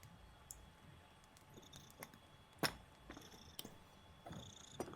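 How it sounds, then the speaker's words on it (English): A cat purrs softly and continuously, close by and quiet, with occasional small clicks and rustles. "I can hear the purring!"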